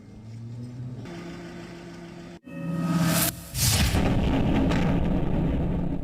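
Heavy bombing in the Ukraine war: a deep rumbling engine-like drone cuts out, then a sharp blast and whooshing rush of debris erupt loudly, followed by a sustained roaring wash of noise.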